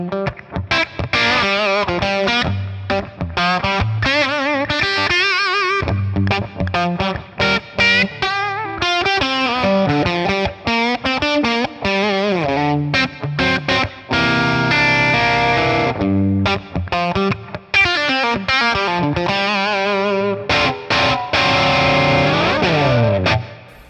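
Electric guitar played through a 1963 Fender Brown Deluxe amplifier, a busy distorted riff with chords and single-note runs, loud and continuous from start to finish, with no voices.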